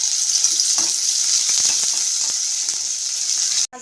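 Garlic and chopped onion frying in oil with dried red chillies, a bright steady sizzle close up with a few stirring clinks and scrapes, ending abruptly.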